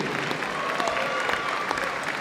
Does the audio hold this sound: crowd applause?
yes